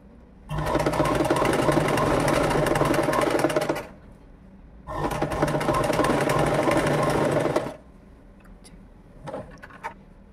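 A sewing machine stitches a 1-inch fabric strip for an umbrella frock in two sustained runs of steady whirring, each about three seconds long, with a short pause between them and a few soft handling clicks after.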